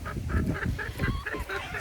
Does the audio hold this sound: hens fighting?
yes